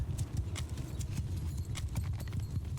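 A large cavalry contingent gallops across the battlefield in Mount & Blade II: Bannerlord, a dense, continuous rumble of many hooves drumming close and loud with no pauses.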